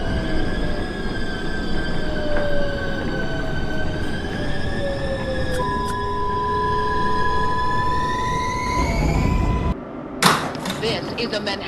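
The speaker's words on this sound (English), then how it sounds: "This is a Manhattan-bound 4 train." An NYC Subway R142A 4 train runs in the OpenBVE simulator, a loud steady rumble with rising and falling motor whine, brief squeals, then a sharp hiss and clatter near the end.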